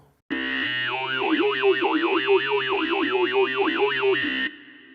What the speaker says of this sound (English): if you want a sound that does yo yo yo yo yo, you can use the Formant filter E to O